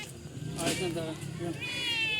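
Voices imitating cats, drawn-out mock meows from people at an outdoor park picnic, close and lively over background chatter.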